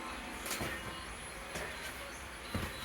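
Inside a moving passenger train just departed from Nagarsul, a quiet, steady rumble carries on with a few soft clunks and rattles, and no voices are heard.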